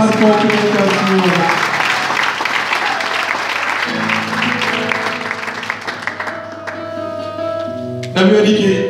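A church congregation claps and cheers loudly for the Lord, with dense, sustained applause mixed with voices and sustained musical tones, fading toward the end before swelling again.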